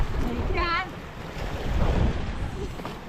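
Sea surf rolls in at Adgaon beach, where fishermen's children bathe in the morning water: a steady wash of waves and wind noise with a brief chirping whistle near the start.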